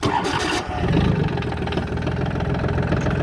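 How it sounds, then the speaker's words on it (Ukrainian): A Solis 26 tractor engine idles close by with a steady, throbbing rumble, after a brief clattery burst at the very start. "приємний звук мотора, це не Китай"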